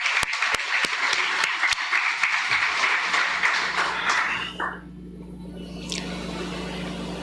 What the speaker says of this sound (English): And also give Farouk a round of applause also